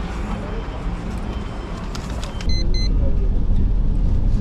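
A small minibus on a road between Turkey and Georgia, its engine and road rumble droning steadily and loudly throughout, growing heavier partway through, with no talk.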